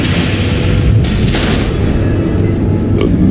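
Missiles exploding in Batman: The Enemy Within, heavy booming blasts at loud level that roll into a dense rumbling wash, with a sharper burst near the middle.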